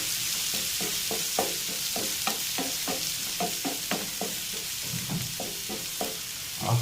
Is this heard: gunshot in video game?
no